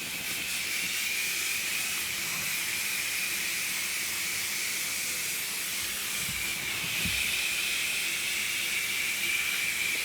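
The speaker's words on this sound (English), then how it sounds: "I'm going to super lightly mist this on" An airbrush sprays a light mist of semi-transparent warm gray paint onto grey rhino skin, a steady, close hiss that carries on without pause throughout, with faint small knocks but no talking.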